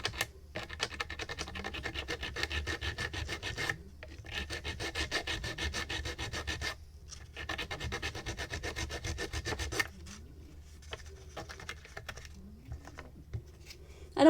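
A filing tool rasps against a card, scraping off material in three long bursts of steady back-and-forth rubbing with brief pauses between, then lighter scratching near the end.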